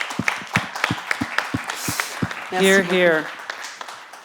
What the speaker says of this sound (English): Et je voudrais un round of applause pour elle.